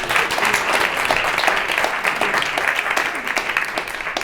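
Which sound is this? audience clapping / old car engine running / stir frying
audience clapping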